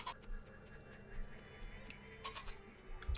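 A sheep creature bleats in the god game Black & White Ultimate Mod, several soft, wavering bleats spread over a few seconds against a quiet game background with no talk.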